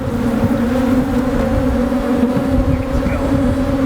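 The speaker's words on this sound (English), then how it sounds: "You can already see they're collecting at the hive." A swarm of honey bees collecting at a hive, a loud, dense, steady buzzing drone of many insects close by, continuous throughout.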